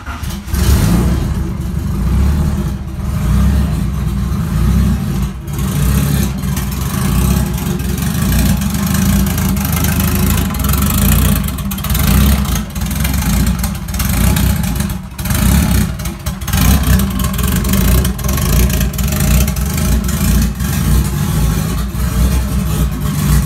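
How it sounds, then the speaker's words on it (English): A turbocharged Honda B16 engine cold-starts and idles close by, a loud, rough, lumpy rumble with irregular pulses and occasional blips that runs steadily throughout, with no talking. "So we're going to do a quick cold start here"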